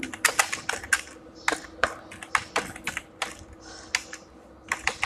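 A computer keyboard is typed on in quick, irregular bursts of distinct, close key clicks with brief pauses between words, over a quiet background.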